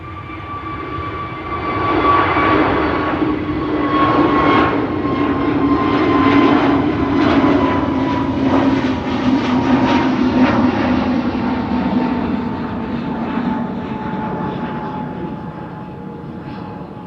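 Airbus A321neo jet departing Amsterdam Schiphol for London Heathrow, a loud, sustained engine roar with a steady tone gliding slowly downward, holding for many seconds before easing slightly.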